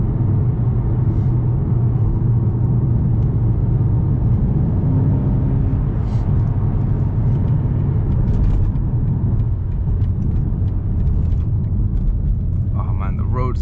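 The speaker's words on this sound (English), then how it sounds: "it's just the sound of the car, and the exhaust flaps are open, so it's slightly screaming" A BMW M5 Competition driving with its exhaust flaps open, a loud steady low engine rumble and road roar throughout, heard from inside the car with someone talking over it.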